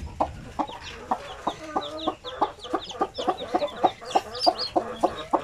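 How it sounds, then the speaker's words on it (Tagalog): A mother hen of the pure Basilan breed clucks steadily beside her eleven newly hatched chicks, their high peeps scattered on top in a busy, close, continuous chorus. "So yan yung kanyang mga sisiw, oh."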